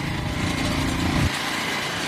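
Vehicle engine droning steadily nearby, loud and continuous, with a deeper low rumble that cuts off partway through as it passes.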